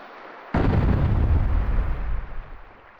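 A single heavy bang erupts against a wall in the video game Legend of Legaia, a loud deep boom with a long rumbling tail that slowly fades, standing alone with no talk.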